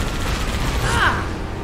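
Turret gunfire in the video game Halo 2, a dense, continuous rattle of shots holding steady for under two seconds with a brief brighter burst near the middle.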